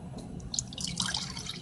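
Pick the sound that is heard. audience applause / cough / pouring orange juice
pouring orange juice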